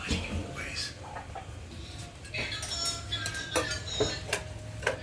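Dishes and cutlery being washed at home, with scattered clinks and clatters of plates and utensils at close range while voices chat nearby.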